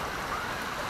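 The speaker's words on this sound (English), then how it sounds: "The water coming down from the hills." A roadside waterfall on St. Thomas, with water running down from the hills, gives a steady, dense rushing wash with no breaks and no voices for a brief moment.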